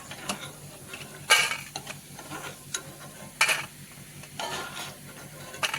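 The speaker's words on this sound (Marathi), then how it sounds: "तर दुसरे टाकून आपण थोडे तळून घेऊ." Vade made from churmure, pohe and kohala fry over low gas, a soft sizzle broken by irregular clinks and scraping taps of a utensil in the pan, close with no talking.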